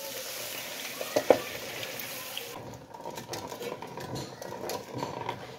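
Milk poured into a slow-heated pan for rabri gives a low, steady sizzle and bubbling hiss, with a brief clink near the start and soft stirring scrapes continuing after.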